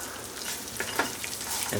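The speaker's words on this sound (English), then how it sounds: "you can hear the sesame seeds start sizzling" Steady crackling sizzle of seeds frying in a hot pan, continuous and close, with a few small stirring clicks and no talking.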